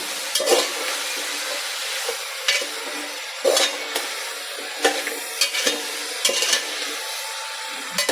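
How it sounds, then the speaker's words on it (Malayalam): A spoon stirs Kerala-style avial, a mixed vegetable curry with drumstick, in a pan. It gives a steady soft scrape and sizzle with sharp clanks against the metal at irregular intervals, close by and with no talking. "അതിട്ടു ഇനി നമുക്കിതൊന്ന് നല്ലതായിട്ടൊന്ന് ഇളക്കാം"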